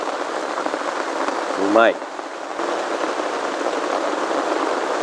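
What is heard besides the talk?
rain falling at a campsite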